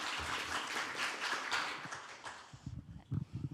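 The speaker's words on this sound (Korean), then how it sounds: "큰 박수로 맞이해 주시기 바랍니다." Applause from a forum audience in a Korean National Assembly setting, a dense even wash of clapping for about two and a half seconds that thins out and fades, with a few louder bumps near the end.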